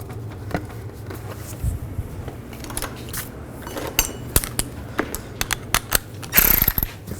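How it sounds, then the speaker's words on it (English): A ratchet tightening valve cover bolts on the driver side of a 2005-2015 Nissan Xterra, with close, irregular clicking spells and metallic taps that get louder and busier toward the end. "Tighten the bolt down. And tighten the other one down as well."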